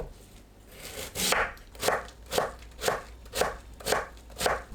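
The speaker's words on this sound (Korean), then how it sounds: "무를 채 썰어 주세요." A knife chops radish into thin julienne strips on a cutting board, seven or eight evenly spaced crisp thuds in a steady rhythm, close and clear.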